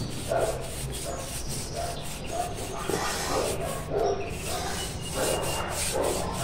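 A brush scrubbing paint off a car tire, with repeated rhythmic rubbing strokes heard close but fairly soft, under occasional talk.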